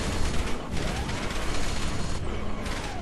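Rapid bursts of gunfire from a weapon in the video game Dark Sector, loud and continuous with dense overlapping shots, tailing into brief breaks.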